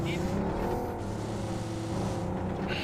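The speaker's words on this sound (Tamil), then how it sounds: "அங்க கார் எடுக்கறான் இப்பதான்" A car engine in the BGMI mobile game drones loudly and steadily throughout, with a revving, racing tone that never drops out.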